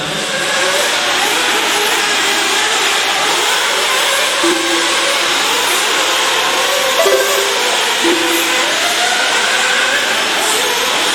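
Several 1/8 scale nitro RC buggies racing on an indoor track, a continuous loud high-pitched engine whine with overlapping revs rising and falling, no talk.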